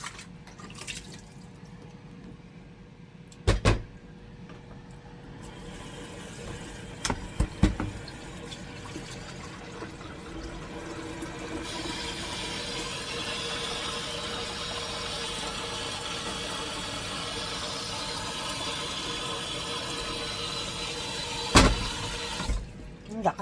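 Strong tap water pours into a kettle being filled for coffee, a steady loud rushing flow after a few clunks, continuing without pause to the end.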